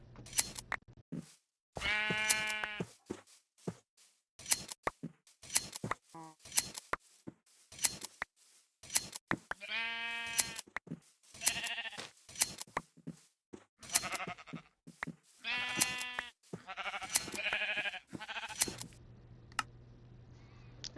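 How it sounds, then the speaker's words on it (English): Sheep are sheared in Minecraft, with bursts of snipping clicks mixed with repeated bleats from the blocky sheep. The game sounds come in quick, scattered bursts with short gaps, and no one talks. "now I have to go shear some sheep"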